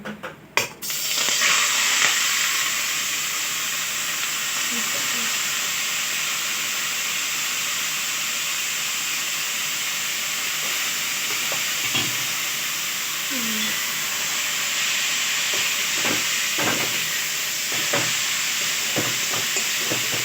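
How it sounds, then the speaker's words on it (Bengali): Grated papaya frying in hot ghee, a loud continuous sizzle and hiss that starts after a few opening knocks, with occasional stirring scrapes throughout. "এখন এই যে পেঁপেটা গ্রেট করে রাখা আছে সেইটা এখন ভেজে নেবে"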